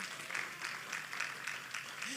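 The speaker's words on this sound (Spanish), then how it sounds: "Dale ese aplauso grande al Señor." A church congregation applauds, a faint, diffuse wash of many hands clapping heard from a distance for a couple of seconds.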